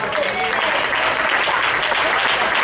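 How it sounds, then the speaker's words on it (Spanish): A church congregation bursts into sustained, dense applause, a steady wash of many hands clapping at an even volume throughout. "Dale un aplauso."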